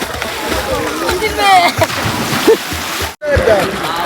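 Someone swims in a village pond with stone steps along its sides, making close splashes and sloshing water with a few sharper splashes, while voices are heard in the background.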